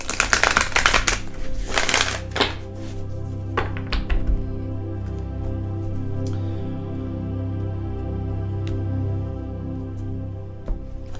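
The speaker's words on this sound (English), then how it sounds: "I pre-shuffled my decks, but I like to shuffle them one more time" Rapid riffling and snapping of tarot cards close by, a burst of crisp shuffling followed by a softer steady hum with occasional light taps.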